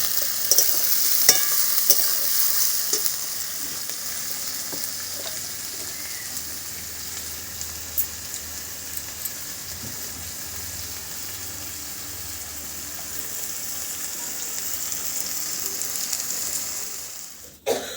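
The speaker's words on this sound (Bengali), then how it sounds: "এবার এগুলোকে খুব ভালোভাবে কষিয়ে নেবো" Spices, sugar and goat fat are sautéed and stirred in a pan for khichuri, producing a continuous close sizzle with stirring scrapes that gradually quiets before a sudden stop.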